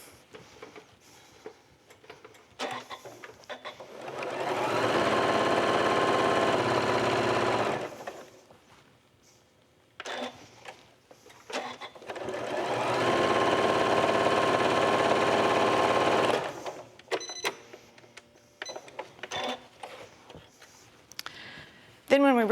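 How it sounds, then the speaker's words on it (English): A sewing machine runs a scant quarter-inch quilt seam in two steady bursts of fast, close whirring, with pauses and light handling noise between them. "we're going to sew a scant 1/4 inch seam away from the marked diagonal line"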